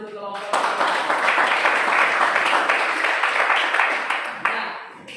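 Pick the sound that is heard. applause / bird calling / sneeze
applause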